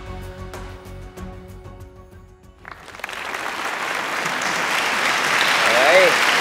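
A studio audience at a children's talent TV show breaks into applause and cheering for a child performer, rising after a stretch of music and voices into a loud, sustained wave of clapping.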